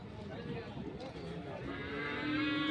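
A Jafarabadi buffalo bull lets out a low, drawn-out lowing call near the end, over muffled background noise at a calf market.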